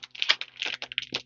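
A packaged fabric charm pack being opened, with crisp crinkling and tearing of plastic wrap in quick irregular bursts, close and fairly loud, no talking.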